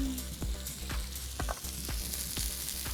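Fish and onion frying in a pan, a continuous close sizzle broken by several soft stirring scrapes.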